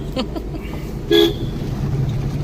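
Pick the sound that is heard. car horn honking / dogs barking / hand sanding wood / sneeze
car horn honking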